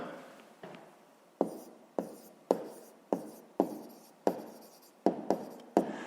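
Pen writing on paper during a fifth-grade math lesson: a string of sharp, close taps and short strokes in an irregular rhythm, heard alone without talk.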